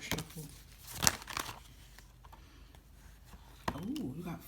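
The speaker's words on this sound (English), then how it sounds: "Hold on, I'm going to do a proper shuffle." Tarot cards shuffled by hand, giving soft papery riffles and crinkles in short bursts, close and fairly quiet, with a voice speaking briefly near the end.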